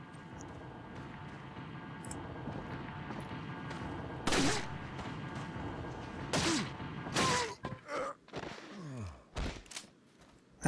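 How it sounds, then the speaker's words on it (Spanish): Gunshots in the horror game Resident Evil 4, a few sharp loud reports cutting through a steady ambient bed, followed by thuds and clattering impacts. "Vamos a dispararle aquí y vamos a cruzar por acá."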